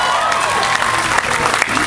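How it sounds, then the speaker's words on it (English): An audience breaks into a burst of loud, close clapping during an interview with a NASCAR driver, sustained for a couple of seconds with a little cheering mixed in. "Just give me a big round of applause."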